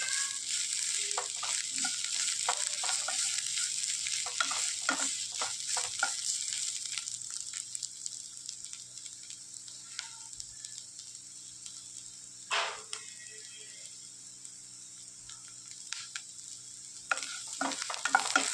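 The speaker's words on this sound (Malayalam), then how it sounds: "ഇപ്പോൾ പ്ലേറ്റ് കൂട്ടി വെച്ച് നന്നായിട്ടൊന്ന് ഇളക്കി ഇത് നല്ല ഡ്രൈ ആക്കി എടുത്താൽ മതി" Green chillies and onions stir-fried in a pan until dry, a steady high sizzle with repeated scraping and clinking stir strokes, close and alone.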